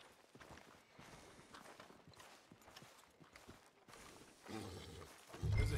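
Horse hooves walking in Red Dead Redemption 2, soft irregular clip-clop steps on a street at moderate distance, quiet at first, then growing louder toward the end.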